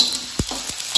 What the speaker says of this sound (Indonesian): Bawang putih ditumis sampai wangi.